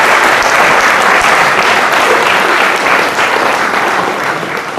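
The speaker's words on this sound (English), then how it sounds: "Big round of applause." A classroom audience gives the actors of a forum theatre project on bullying a big round of applause, loud continuous clapping that holds steady and eases slightly at the end.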